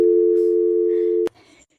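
A telephone tone hums loud and steady for over a second, then cuts off abruptly with a click, leaving faint background noise.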